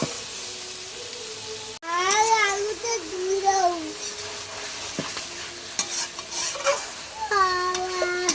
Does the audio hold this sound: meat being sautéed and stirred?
yes